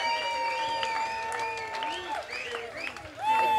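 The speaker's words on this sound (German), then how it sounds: "Also ein warmer Applaus für Katharina" Applause and cheering from a crowd at a cannabis rally, rising as the speaker Katharina is welcomed to the stage, mixed with voices and whistles and swelling louder near the end.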